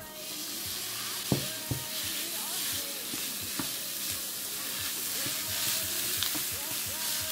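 Ground beef sizzles steadily in a hot pan for fajitas, a dense even frying hiss with a few sharp clinks and scrapes of a utensil, close by and with no talking.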